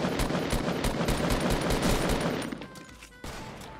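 Video game gunfire heard as a rapid, dense barrage of automatic shots, loud and continuous before thinning out near the end.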